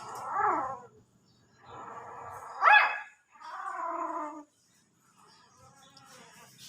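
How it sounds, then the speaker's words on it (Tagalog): Tiny chocolate brown puppies yelping and whining in several short bursts, one sharp high yelp standing out, close and fairly loud, with quiet gaps between calls. "Tahol ng tahol."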